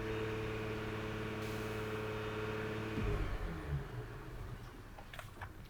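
An Audi S5 engine idles with its idle raised slightly, a low, steady hum that holds for about three seconds before it drops off into quieter rumble and faint clatter.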